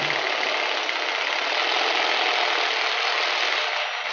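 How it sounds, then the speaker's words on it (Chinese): An electric drill with a Taos drill bit bores holes for an instant water heater installation, giving a steady, close, continuous grinding whine that holds at an even level for several seconds with no talking. "然后接下来打的那几个洞也是这样子打了"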